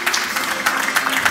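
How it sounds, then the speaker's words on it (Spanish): Audience applause at a bullfighting poster presentation in Abarán, a short burst of steady, dense clapping from a seated crowd with no talk over it. "Sandy, un aplauso"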